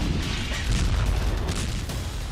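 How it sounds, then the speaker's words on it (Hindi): Tank and artillery fire in a war zone, heard as dense, continuous rumbling booms and bursts with scattered sharper cracks, loud and sustained with no pause. "टैंक और तोप बारूद उगल रहे।"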